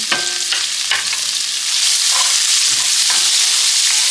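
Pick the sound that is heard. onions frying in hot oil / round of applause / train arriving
onions frying in hot oil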